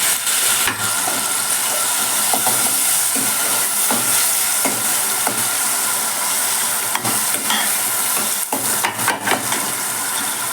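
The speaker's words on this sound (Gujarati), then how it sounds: "જે ગ્રેવી અત્યારે આપણી તૈયાર થાય છે, તેલમાં એને સાંતળી લેવાની છે." Onion, tomato and chilli gravy sautéing in hot oil for a Bhangara fish dish, a steady close sizzle with wet hissing and repeated scrapes and knocks of a stirring spoon against the pan, no talk.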